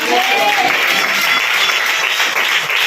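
Church congregation clapping hands loudly for God during an evening service, a steady, dense crowd applause heard up close with a voice briefly audible at the start.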